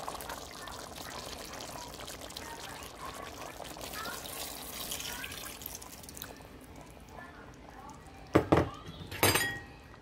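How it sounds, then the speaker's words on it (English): Water pours into a Dutch pot of Jamaican curry goat with potatoes in a steady splashing stream for several seconds, followed by two sharp clinks of metal or glass near the end. "add a little bit of the water to evenly cook the potatoes"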